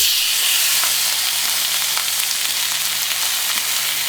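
Chicken frying on a hot plate, a steady loud sizzle with crackling spits throughout and no talk.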